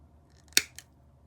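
Scissors snip a piece off a plastic sprue from a White Dummy 13 figure kit, giving two crisp, close cuts in quick succession against a quiet background.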